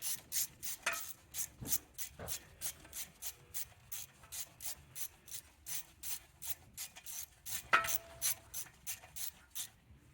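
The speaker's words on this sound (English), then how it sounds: "Put the new one in, and then tighten the 5mm bolt there." Hand ratchet clicking in a steady series of quick strokes while tightening a 5mm bolt holding an ABS wheel speed sensor on a 2006-2015 Audi Q7, close and fairly quiet with brief pauses between bursts.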